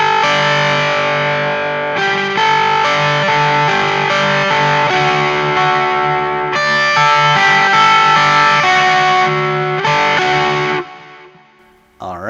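Overdriven electric guitar played through an Alnico speaker in a guitar cab: loud, sustained distorted chords and ringing notes for about eleven seconds, then cut off, with no talking.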